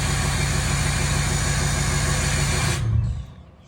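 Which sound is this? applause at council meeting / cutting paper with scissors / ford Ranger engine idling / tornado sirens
ford Ranger engine idling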